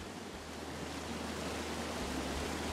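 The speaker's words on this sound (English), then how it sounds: "It's a really nice waterfall down here." A waterfall in the video game Firewatch rushes in a constant, dense hiss with a low rumble underneath, steady and fairly close, with no voices.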